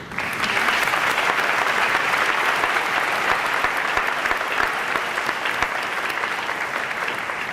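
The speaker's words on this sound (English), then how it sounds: "Would all of those students whose names I have read please stand for applause?" Sustained applause from a large audience at a high school senior awards ceremony as scholarship recipients stand, dense steady clapping filling the hall without pause.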